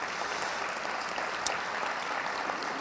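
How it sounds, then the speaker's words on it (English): Sustained applause from a gala audience, a full, even roar of clapping filling the room for the whole stretch, with one sharper accent near the middle. "One more round of applause for her."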